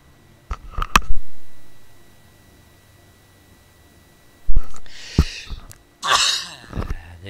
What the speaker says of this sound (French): Éternuer.